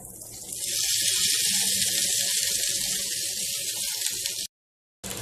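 Okra (ladies finger) tipped into a hot pan with sautéed onions during a South Indian poriyal, bursting into a loud, steady close sizzle with stirring scrapes before a sudden cutoff.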